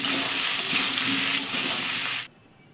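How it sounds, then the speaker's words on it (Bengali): Cut potato and Malabar spinach stems stirred in a hot frying pan, a steady broadband sizzle with scraping strokes for about two seconds, then stopping abruptly into quiet. "এবার কেটে রাখা আলু এবং পুঁই ডাঁটাটা দিয়ে দিলাম। কিছুক্ষণ এভাবে আমি নেড়ে দিব একটু।"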